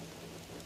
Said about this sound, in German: Schön im Regen sitzt man da.